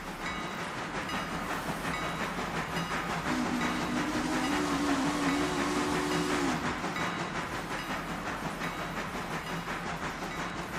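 A steam train pulls into a station in a train simulator game, with a continuous rumbling clatter and hiss and a thin, steady tone partway through, alone with no voices.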